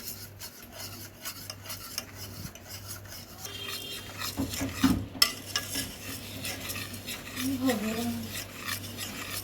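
Sugar being stirred into a dessert mixture in a bowl, a steady close scraping and rubbing of a spoon going round, with occasional clinks against the side.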